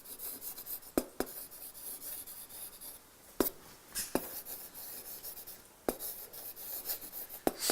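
Pen scratching on paper while a math solution is handwritten, a steady soft rasp of strokes punctuated by sharp taps as the pen lands.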